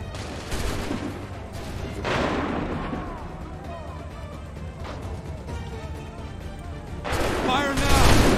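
Cannon fire in the Assassin's Creed III video game: a rolling barrage of heavy booms and crashing blasts, loud and continuous, with a voice shouting commands over the battle.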